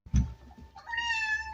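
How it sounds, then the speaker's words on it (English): A pet cat meows close by at a door, wanting to be let in, with a short rising call followed by a longer drawn-out meow that ends in a sharper cry. "Kitty wants in"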